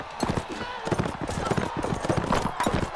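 In the video game Mount & Blade Warband, a horse gallops with rapid rhythmic hoofbeats amid battle noise, with a voice talking over it.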